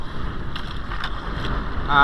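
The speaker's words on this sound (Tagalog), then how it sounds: "Sobrang lakas ng hangin." Steady roaring strong wind buffeting the microphone outdoors on a lobster-fishing boat at sea, loud and continuous, with faint water and boat noise beneath.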